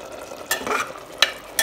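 Sliced ridge gourd and onion fry over medium flame under a steady sizzle, as a spatula scrapes and stirs the pan in three quick, close strokes.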